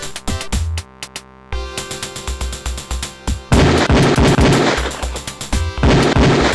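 Gunfire from a Beretta 92F pistol on a shooting range in the PC game Police Quest IV: a string of sharp, punchy shots in an uneven rhythm, growing into a denser, louder volley.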